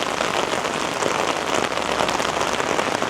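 Torrential downpour drenching downtown Toronto streets, a loud, dense, unbroken hiss of rain pounding surfaces close by, steady throughout with no voices.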